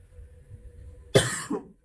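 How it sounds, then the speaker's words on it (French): A single close cough bursts out after a quiet stretch, followed by a short second catch of breath, clear and isolated with no talking around it. "Excusez-moi si je tousse un peu."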